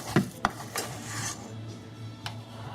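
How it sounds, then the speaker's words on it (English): Vegan, gluten-free beet cupcake batter is scooped into a cupcake pan, producing a few sharp metallic clicks and taps followed by soft scraping and rubbing, close and fairly quiet, with no talk. "you can also use a scoop to put the batter in the pan so you make sure these are nice and even"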